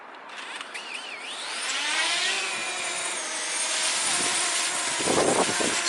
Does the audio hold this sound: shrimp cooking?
no